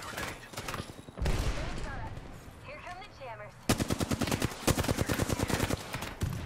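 Video game gunfire in a ranked Predator match, with bursts of rapid automatic shots, a loud sustained volley near the end, and a voice talking in between.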